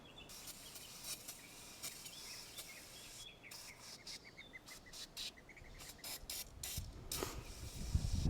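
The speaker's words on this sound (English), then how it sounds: "We're going to go ahead and clean it now with the Sprayway cleaner." Sprayway grill and oven cleaner is sprayed onto a kitchen hood filter in a series of short aerosol hissing bursts, close and fairly loud, with faint chirping in the background.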